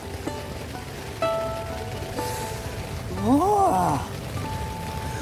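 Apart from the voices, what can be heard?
heavy rain falling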